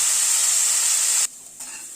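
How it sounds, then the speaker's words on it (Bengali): Potato and cauliflower frying in a pan, a loud close hissing sizzle that drops abruptly in level partway through, then continues more softly. "আলু ফুলকপিটাকে লাল করে ভেজে নিলাম"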